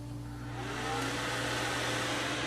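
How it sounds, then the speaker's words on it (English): A new video editing PC's cooling fan spins up after leaving the BIOS, a whooshing whir that swells over the first second and then holds as a loud steady hum with tonal whine, no talk. "It spun up the fan."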